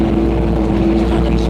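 A digger engine revving high while digging, a loud steady drone with a strong constant hum and no break, with speech faintly present.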